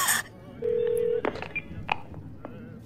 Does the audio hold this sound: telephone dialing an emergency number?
yes